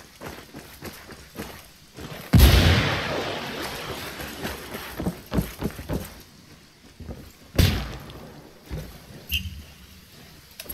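A frag grenade detonates in the tactical shooter Ghost Recon Ghost War, a sudden loud broadband blast that rolls off into rumbling debris, followed by a second sharp bang a few seconds later amid scattered game noise.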